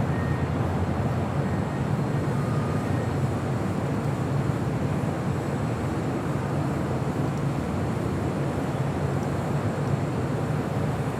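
An airliner approaching runway 25 left at LAX produces a steady, broad engine roar that holds evenly loud throughout, with no voices.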